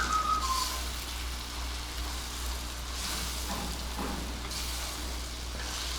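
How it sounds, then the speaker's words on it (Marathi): Vatli dal mixture sautéing in a pan, a steady soft sizzle with faint scraping stirs, continuous and close with no talking. "आणि आता हे मिश्रण आपल्याला परतून घ्यायचं आहे"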